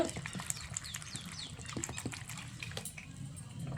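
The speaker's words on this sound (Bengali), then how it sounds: "দেখুন এবার জল দিয়ে ভালো করে ধুয়ে নিচ্ছি পরিষ্কার করে খোসাগুলোকে।" Ridge gourd peels are rinsed by hand in water in a bowl, giving close, quick splashes, squelches and small knocks in an irregular rhythm.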